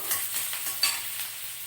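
Onions fry in a pan for aloo matar, a bright crackling sizzle broken by a few stirring scrapes, close and continuous with no voices.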